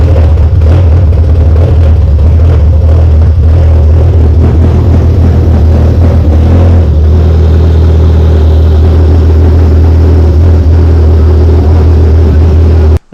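A 2.4-liter naturally aspirated big cam engine, freshly swapped into a Neon, runs loud and close, a constant heavy droning idle with slight shifts in pitch, cutting off abruptly at the end.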